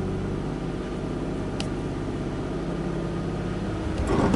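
A car's engine is held at a steady, mid-pitched drone around 2000 rpm while its wheels spin on snow during a test of IzzyGrip liquid snow chains; the rumble stays constant and close, swelling slightly at the very end.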